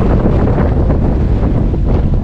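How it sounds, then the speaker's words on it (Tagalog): Heavy wind roars loudly and continuously into the microphone, a dense rumbling gust with no voices, during rain in Laurel, Batangas, near a new bridge under construction. "Napakalakas ng hangin."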